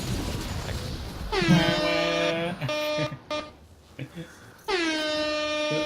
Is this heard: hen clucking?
no